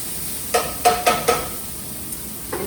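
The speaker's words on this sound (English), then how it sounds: "actually you can smell the garlic cooking" Garlic cooks in a pan with a faint, steady sizzle. A utensil clinks sharply against the pan about four times in quick succession, then twice more softly.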